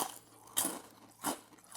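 Bites into crunchy, slightly burnt oven-baked potato fries, three crisp crunches spaced about half a second apart, close and fairly loud against a quiet background.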